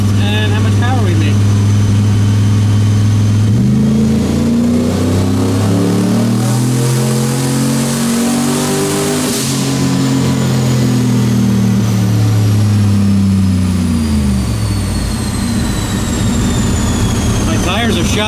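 A boosted car engine revs hard under load in third gear with the torque converter off, a loud, sustained droning roar that climbs and falls in pitch over many seconds, with a whistling whine above it.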